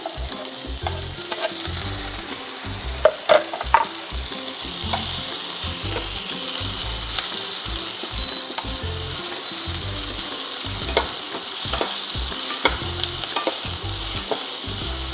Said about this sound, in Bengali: হালকা নাড়াচাড়া করে নেবো